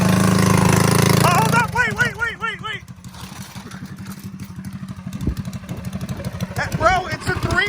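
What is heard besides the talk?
Predator Stage 3 engine on minitrike starting and running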